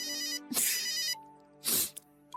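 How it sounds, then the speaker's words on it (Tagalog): A telephone rings with an incoming call, two loud electronic ring bursts close by separated by a pause, alone with no talking. "Sino ba tong tumatawag na to kanina pa?"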